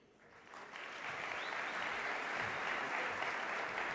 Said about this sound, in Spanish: le damos un muy fuerte aplauso nuevamente, por favor